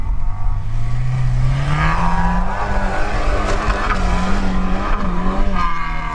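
A Lada Niva 4x4 with winter tyres, in low gear with the differential locked, grinds steadily up a steep hill, its engine note loud, close and rising and falling under load without pause.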